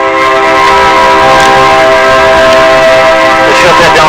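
A passing train blasts its horn in one loud, sustained, steady tone over a low rumble, very close to an outdoor spot where a 1995-2001 Chevy pickup is being repaired.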